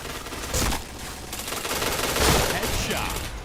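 Video game gunfire sounds as dense automatic bursts and rapid shots, loud and close, with fuller blasts near the start and middle over a busy background.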